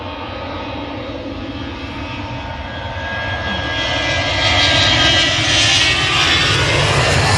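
EasyJet Airbus A320ceo jet airliner taking off, a steady broad engine roar that swells and grows louder over several seconds as the aircraft powers down the runway, heard alone.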